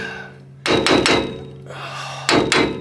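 A brass mallet knocks on trailer wheel bearings and races, a handful of sharp metallic knocks in two short bursts, close and fairly loud, with a quieter stretch between them.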